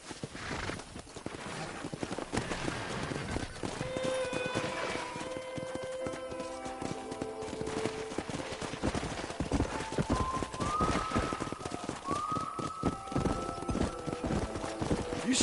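Hoofbeats of wild horses galloping through open ranch country in Red Dead Redemption, a busy continuous clatter with occasional whinnies and musical tones layered over it.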